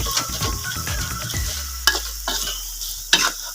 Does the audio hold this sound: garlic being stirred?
yes